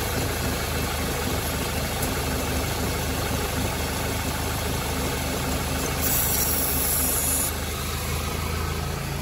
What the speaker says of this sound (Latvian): Dzirdām, kā izmainās mašīnas darbība.